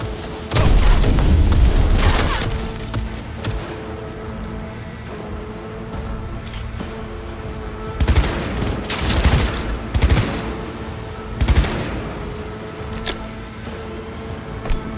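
Gunfire in Cyberpunk 2077 comes in heavy bursts of rapid shots, with quieter gaps of game ambience between volleys and no speech.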